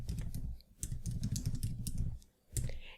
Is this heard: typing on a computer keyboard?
yes